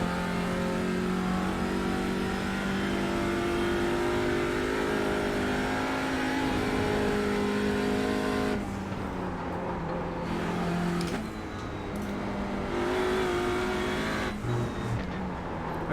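Race car engine revving hard on track in a racing video game, a loud continuous roar climbing through gears with sharp cuts and shifts in the second half.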